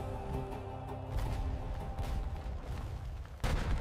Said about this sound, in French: le premier coup de canon retentit